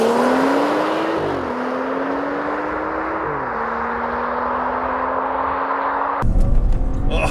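A 2014 BMW 435i xDrive launches and accelerates to 60 mph, the engine note climbing steadily through several gear changes from inside the cabin, with a loud rush and rumble at the very end.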